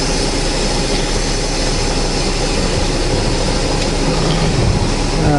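A heavy truck's engine brake runs at full strength on the westbound climb over Rogers Pass, making a loud, steady droning rumble that holds for the whole stretch with no talk over it.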